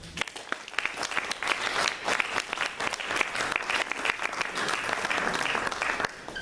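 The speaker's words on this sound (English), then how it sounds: "Let's give him a round of applause" Audience at a poetry reading applauding, a sustained round of clapping that stays dense and fairly even for several seconds before tapering at the end, with no talking.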